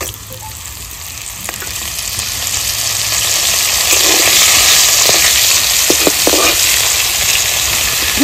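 Garlic and whole cumin fry in hot oil in a village kitchen, a loud steady sizzle that swells after a few seconds, with occasional light stirring clicks and a low engine-like hum beneath.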